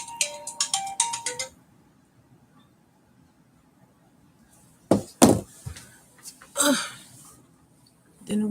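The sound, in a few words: work phone ringtone ringing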